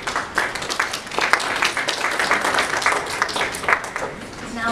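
A museum audience applauds its board members at an indoor event, a steady burst of many hands clapping close and loud throughout, with some voices mixed in.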